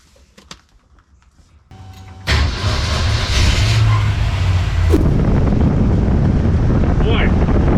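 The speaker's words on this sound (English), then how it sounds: "25 miles an hour feels a lot faster when you got the wind in your face." A 1965 Ford Falcon with no windshield drives along at about 25 mph, with heavy wind buffeting the microphone and a steady engine and road roar that builds after a quiet start.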